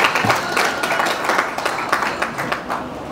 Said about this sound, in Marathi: त्यासाठी जोरदार टाळ्या होऊ द्या